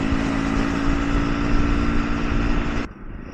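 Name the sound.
Triumph Scrambler 400 motorcycle riding on the freeway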